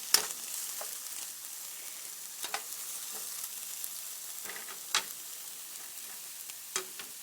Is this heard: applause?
no